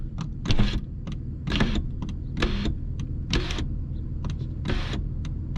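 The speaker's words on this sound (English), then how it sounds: "Let's do the ever scary sunroof test." Sunroof motor of a 2008 Mercedes CLS63 AMG running in short repeated whirring bursts with brief pauses between them, close and fairly loud inside the car.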